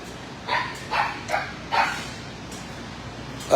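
Dog barking in a short series of four quick, sharp yips, fairly close, with a faint background hiss and no talking.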